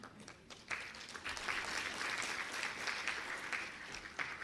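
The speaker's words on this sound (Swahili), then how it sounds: "naomba tena tuwapongeze kwa makofi mengi kabisa kabisa" Applause at a government ceremony receiving budget support funds, a dense crowd clapping that swells after a brief softer start and holds steady throughout, no speech over it.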